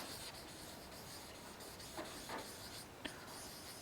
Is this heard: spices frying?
no